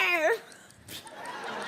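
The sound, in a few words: person imitating a dog barking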